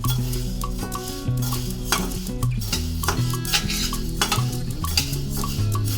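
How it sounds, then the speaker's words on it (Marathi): Sorghum grains dry-roast in a hot kadhai over low flame, a spatula scraping and rattling them in repeated rhythmic strokes, fairly close, over steady tonal music. "कढई थोडीशी तापली की त्याच्यानंतर गॅस बारीक करायचा आणि ज्वारी टाकायची आणि व्यवस्थित भाजून घ्यायची"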